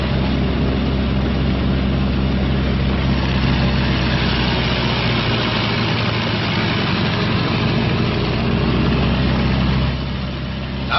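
Twin engines of a Martin B-26 Marauder bomber run up together, a loud, steady low-pitched roar and drone that holds level throughout and eases slightly at the very end, with no talking.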